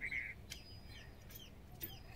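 Chickens feeding close by give a few soft clucks and short calls over faint background hiss, with peacocks feeding nearby.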